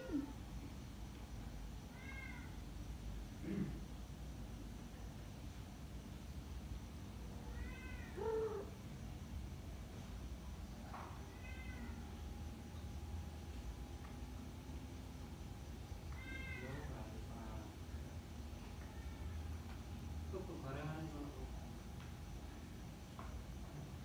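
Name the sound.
cat meowing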